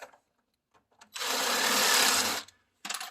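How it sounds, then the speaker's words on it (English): A countersink bit reaming a screw hole grinds in one steady burst of about a second and a half, with brief scraping touches before and after. "put it in the hole and just ream it."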